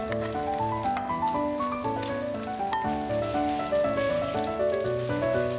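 Cold rice frying with Spam and eggs in lard in a pan, a steady crackling sizzle under background music.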